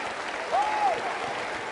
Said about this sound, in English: we're going to applaud every woman in this room